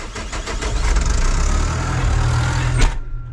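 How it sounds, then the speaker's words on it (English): A tractor engine runs loud and close with a steady low rumble, then cuts off abruptly near the end. "I'll power up the tractor here now"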